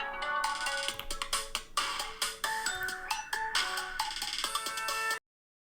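Mobile phone ringtone for an incoming call, a bright repeating melodic jingle of quick plucked and chiming notes lasting about five seconds before cutting off abruptly, fairly clear with no talking over it.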